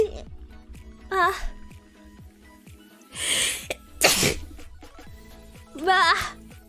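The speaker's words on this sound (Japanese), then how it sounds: "普通に汚いくしゃみ出た。" Two sneezes from a woman livestreamer, one loud burst after another, followed by a third sharp sneeze, with short breathy vocal sounds between them.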